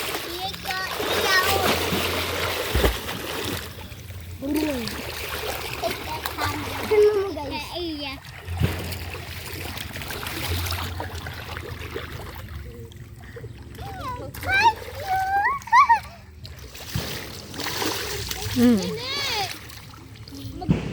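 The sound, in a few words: children splashing water while bathing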